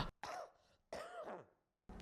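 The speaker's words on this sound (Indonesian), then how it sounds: "Aduh, masih batuk." A man coughs twice, a rough throaty cough in two close bursts with a pause between, then a further burst begins at the end, indoors and close to the microphone.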